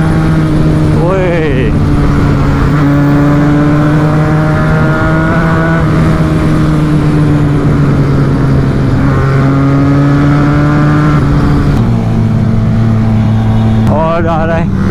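KTM Duke 390 and Duke 250 motorcycles rev and pass in a group ride, their engines droning loudly and steadily throughout with rising and falling pitch as bikes go by, a sharp rev near the start and another near the end, voices shouting over them.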